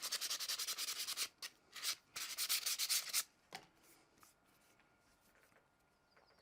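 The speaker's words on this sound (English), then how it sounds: "you're going to sand it, make it nice and smooth to the point where you get to this" Sandpaper rubs a carved catlinite stone pipe in rapid back-and-forth strokes, crisp and close for a few seconds, then stops, leaving only faint scattered scrapes and handling noises.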